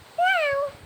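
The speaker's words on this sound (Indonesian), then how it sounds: "Meong, meong, kata kucing itu." A single cat meow rises and then falls, clear and close, lasting about half a second against a quiet background.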